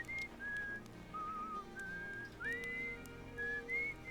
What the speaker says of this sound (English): Some whistling here. It moves.